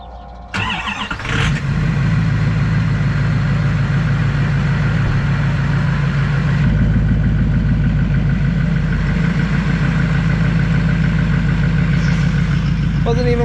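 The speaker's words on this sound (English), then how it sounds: "we'll get it started up and moved over so that we can slide it in" A John Deere 7520 tractor engine cranks and catches with a sharp start, then settles into a loud, steady, low diesel rumble that runs on close by.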